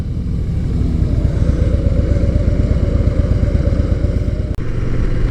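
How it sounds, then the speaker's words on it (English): A Harley-Davidson Softail motorcycle engine running steadily, a loud, close, low rumble with an even pulsing beat and no break except a brief click near the end. "Ah, the Softail's running great."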